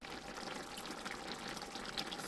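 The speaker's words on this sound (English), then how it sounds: "So we're gonna add some more water" Water poured into a pot of Jamaican-style brown stew pork, a steady broadband splashing and trickling that runs evenly and close-up for the whole stretch, with no talking.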